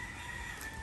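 A rooster crows in a backyard on a very windy morning, one brief tonal call heard over steady wind noise.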